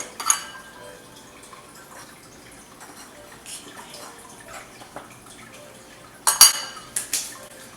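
Flour and salt stirred together in a small bowl, soft scraping with faint utensil clinks against the bowl and a few sharper taps near the end, close and quiet.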